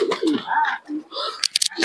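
Pigeons at a pigeon market in Murshidabad give short bursts of cooing and bird calls, close by, broken by a few sharp clicks and interleaved with talk.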